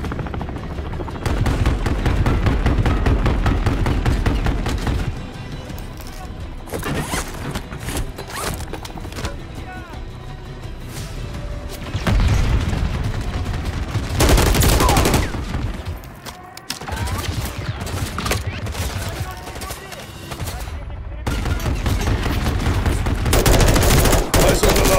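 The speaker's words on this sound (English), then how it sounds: "Got a mounted MG coming your way on an armored vehicle." Mounted machine gun fire from an armored vehicle in Call of Duty Modern Warfare III, loud rapid bursts and sustained volleys with heavy booms, mixed with a helicopter drone and battle noise throughout.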